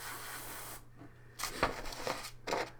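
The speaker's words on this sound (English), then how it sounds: "I am not skilled to use this airbrush" An airbrush hisses as it sprays paint onto Warcry miniatures, coming in short bursts of airy spray separated by quiet pauses.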